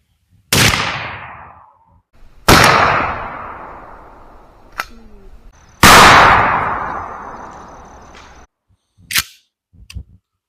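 A 12-gauge shotgun fires Remington Express 00 buckshot shells at a 12-inch target 30 yards away: three loud, sharp blasts a couple of seconds apart, each with a long decaying echo, then fainter clicks and clatter from handling the gun.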